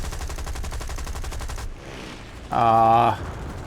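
Automatic gunfire in War Thunder ground combat rattles in a rapid, steady stream for over a second, followed by a short pause and then a loud, tonal burst, close and sustained.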